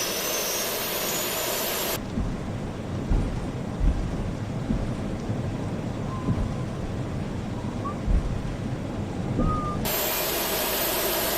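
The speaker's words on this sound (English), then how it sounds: "that loud noise you can hear is the APU spinning out" A loud, steady mechanical roar with a deep rumble and broad hiss of an Airbus A320 auxiliary power unit spinning down in a flight simulator game, continuous with no voices.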